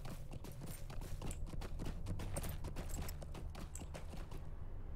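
Horse hooves clip-clop in a fast, steady gallop rhythm in a video game, continuous and fairly close, with some mechanical clatter mixed in.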